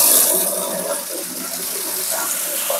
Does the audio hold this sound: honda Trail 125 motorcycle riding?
no